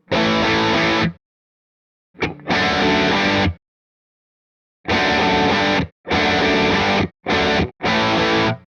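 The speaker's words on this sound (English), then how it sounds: "This is what my guitar sound is with no reverb." Heavy distorted electric guitar plays dry chords in separate bursts, each cutting off abruptly into silence with no lingering tail.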